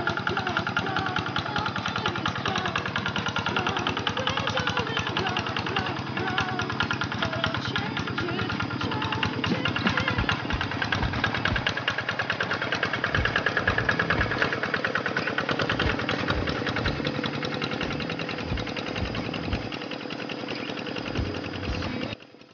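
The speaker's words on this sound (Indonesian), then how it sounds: "sudah berapa lama menjalankan traktor ya" A tractor engine runs steadily while plowing a rice paddy, a loud continuous mid-pitched chugging with knocking irregularities that holds throughout and cuts off at the end.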